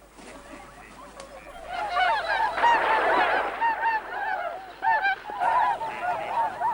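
A group of Bewick's swans calls with a rapid series of nasal, honking notes that overlap and swell, close and fairly loud, continuing throughout.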